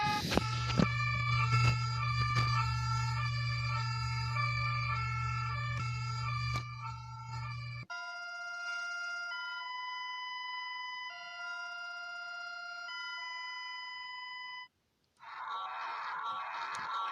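A series of emergency alert alarms sound in succession: first a loud, harsh multi-tone blare over a low hum, then cleaner stepped alert tones, and after a brief gap a burst of noisier alarm sound.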